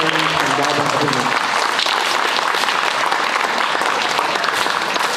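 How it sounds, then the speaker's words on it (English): Audience applause fills a school signing day ceremony honoring a female tennis player, steady broadband clapping throughout with a brief voice at the start. "One more round of applause for one of the greatest female tennis players from Dobyns-Bennett."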